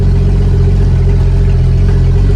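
An International Harvester L-130 truck engine runs steadily, a loud, constant low rumble close by with no change in pitch and no talking.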